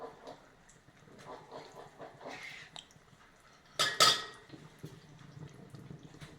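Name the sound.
spoon clinking while adding homemade ghee to amla pickle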